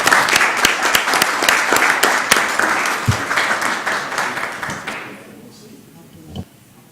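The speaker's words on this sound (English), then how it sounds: "Let's give him another round of applause for it." Applause at a city council meeting: a round of clapping from the chamber, loud and sustained at first, thinning out and fading after about five seconds, followed by a few thumps and quiet room noise.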